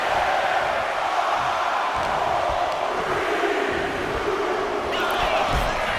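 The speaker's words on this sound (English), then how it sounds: "The crowd is counting it down." Arena crowd in the WWE 2K25 wrestling video game chanting along with a countdown during a Survivor Series Bloodline tag match, a steady roar of massed voices rising and falling, fairly distant, with no clear speech.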